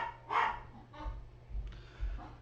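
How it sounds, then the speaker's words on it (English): Dogs bark several times nearby, a loud first bark followed by a few quieter barks and yips spread across a couple of seconds, with low rumbling room noise underneath. "I'm so sorry about these dogs."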